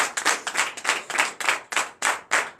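A congregation at a morning prayer service claps loudly in a steady, uneven rhythm of sharp bursts, the strokes close and distinct with no talking over them.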